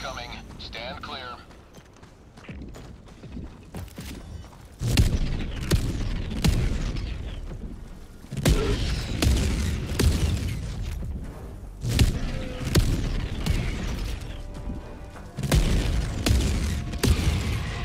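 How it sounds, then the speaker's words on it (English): Orbital barrage artillery strike in the video game Helldivers 2: a series of heavy booming impacts arrives in repeated waves, each blast sharp and loud with rumbling tails, while voices talk over the bombardment. "Orbital barrage incoming. Stand clear."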